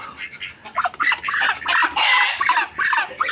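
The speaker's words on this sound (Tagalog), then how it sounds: "nakikita nyo po itong inahin naglilimlim isang manok at isang pato" A brooding hen clucking and murmuring close by in a rapid, continuous run of soft throaty calls.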